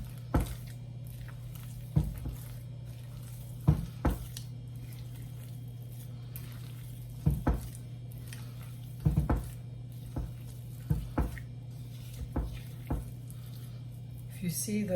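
Soft, sticky squishes and pats as golden raisins are mixed and folded into brioche dough by hand, irregular and close, under a steady low hum with occasional quiet kitchen clatter.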